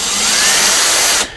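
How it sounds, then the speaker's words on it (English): A power drill bores lightly into Commodore 64 parts with a loud, steady high whine that runs for about a second before cutting off abruptly. "I just gave a little bit of a drilling to each one"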